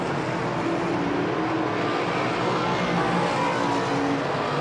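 Modified stock cars racing in a 50-lap final, a dense continuous roar of engines and wind at close range, steady and loud throughout with no distinct pass-bys standing out.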